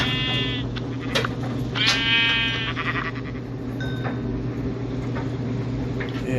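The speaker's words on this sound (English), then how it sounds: "More sheep." Sheep bleat in Minecraft Pocket Edition (Bedrock), with a few short, buzzy electronic bleats rising over a constant low hum of in-game background sound.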